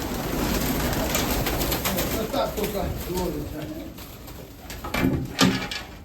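Crested, shaggy-feathered Mykolaiv pigeons coo in a pigeon loft in Kamianske, a soft, continuous murmur heard close by beneath a man's steady conversation.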